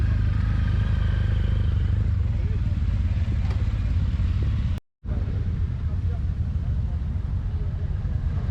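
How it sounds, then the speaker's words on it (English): Motorcycles pull away at the Glenisla Show agricultural event, engines droning and clattering at moderate distance, with a brief dropout midway and a voice talking over them. "a lot of the motorcycles are actually going away"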